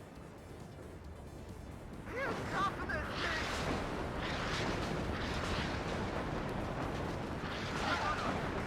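A double salvo of artillery fire in the video game WARNO: a dense, rumbling barrage of overlapping distant booms begins about two seconds in and rolls on continuously, with a person's voice over it.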